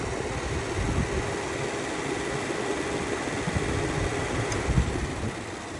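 Electric cooling fans whir steadily in the engine bay of a Chevy Tahoe after an e-fan conversion, a constant broadband rushing hum close to the listener with no pauses.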